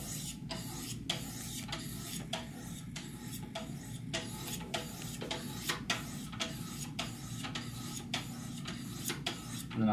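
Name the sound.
sharpening a knife on 800 grit whetstones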